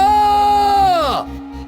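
A loud, sustained scream held for about a second, then pitching sharply downward and breaking off, with a low rhythmic rumble beneath and a quiet tail after the cry ends, set in a Hindi horror story about a vampire house.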